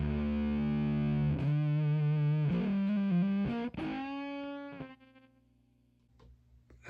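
Electric guitar through a germanium fuzz pedal set to a heavily gated distortion, strummed chords ringing out then choking off abruptly, a few short stabs and a fading sustained note, fairly quiet and alone.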